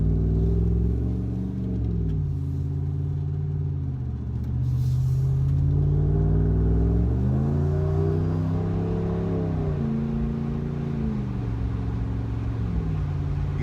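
Honda Rebel motorcycle fitted with a Carven Progressive exhaust, cruising at steady speed: a continuous deep engine rumble with gentle pitch rises and dips as the throttle shifts, close and unbroken, with no talking.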